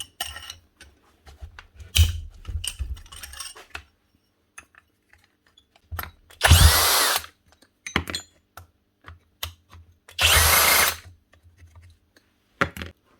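A power tool whirs in two short bursts, close by, amid clicking and handling noises as tight torque head screws are worked loose from a Hilti TE905AVR hammer.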